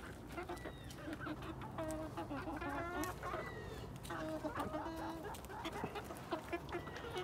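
Ameraucana and Cochin chickens, three-month-old pullets, cluck and chirp steadily in a close, busy chorus of short repeated calls with a few louder squawks, with no talk over them.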